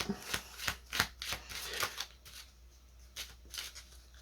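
A deck of cards being shuffled by hand for a card reading: soft, close riffles and slides in quick rhythmic bursts, quiet and with no talking.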